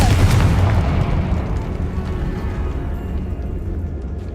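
A Confringo fire spell bursts in Hogwarts Legacy with a loud, booming explosion that rolls into a long, rumbling decay, heard alone.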